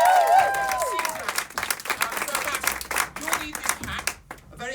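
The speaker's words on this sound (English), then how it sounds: "Big round of applause for Matt." An audience at a live comedy stage show bursts into steady applause with some cheering, sustained for about five seconds, and a voice is heard briefly at the start.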